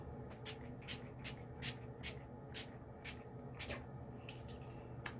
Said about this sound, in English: So with the Avon True Color setting spray, I'm going to